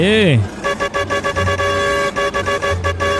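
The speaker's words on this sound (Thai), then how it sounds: "แตรลั่นๆเลยครับผม" A combine harvester's horn in the Farming Simulator video game blares in one sustained harmonic tone, then keeps honking in a steady series of short pulses over a low engine rumble.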